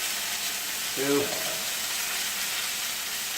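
Garlic cloves frying in hot oil: a steady, close, bright sizzle that holds throughout, with a brief voice sounding over it partway through.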